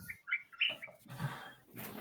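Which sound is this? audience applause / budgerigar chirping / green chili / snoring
budgerigar chirping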